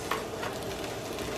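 Diced ham dropped into a pan of sautéed, softened onion, celery and bell pepper trinity, giving a faint, steady sizzle with a soft stir at the start, no voices.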